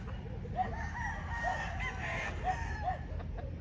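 Young gamecock stags, tethered, give intermittent short clucks and calls over a steady low background rumble, moderately near and not very loud.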